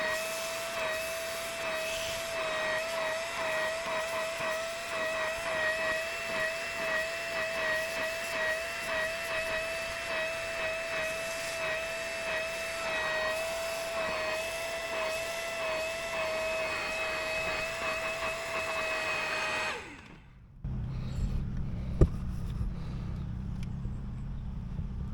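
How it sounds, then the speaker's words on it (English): A wet vac with a steady high whine runs close up for about twenty seconds while cleaning the passenger seat of a VW Golf, then cuts off, leaving quiet room sound with a few small knocks. "A couple of scrubs and a wet vac, that's it."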